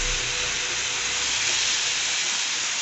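Crab added to a hot kadai with onions sizzles in a loud, continuous hiss, close and steady, with no voices.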